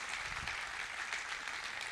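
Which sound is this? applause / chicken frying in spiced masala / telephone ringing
applause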